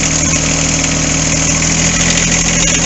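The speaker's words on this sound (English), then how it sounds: "We'll bring the RPMs up a bit right over here." A new John Deere 4x4 tractor's engine runs close by, a steady loud diesel drone with a rhythmic low throb, holding at elevated revs throughout.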